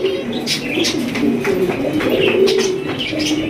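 A pair of jet-black Danish pigeons cooing up close, with repeated soft throaty coos and rolling calls over several seconds along with faint chirps from other birds, no talking.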